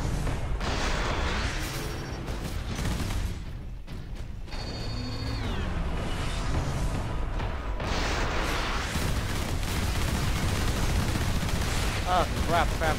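Turret gunfire in the Warhammer 40k Space Marine video game comes as rattling mechanical bursts mixed with clanks and game effects, fairly quiet and continuous across the clip.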